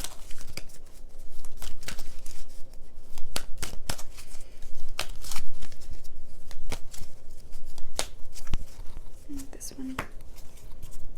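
Tarot cards being shuffled by hand in a quiet room, a series of sharp crisp riffles and snaps scattered unevenly through the clip over a soft rustling bed.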